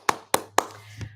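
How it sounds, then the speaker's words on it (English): A few sharp, separate claps ring out close by, three evenly spaced hits followed by a softer tap, with a low steady hum underneath rather than the wash of a full audience. "Applaud."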